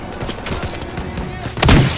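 Gunfire in the Call of Duty WWII stronghold mission: a dense, steady crackle of shots throughout, with a heavier burst or thud near the end and some faint battlefield voices underneath.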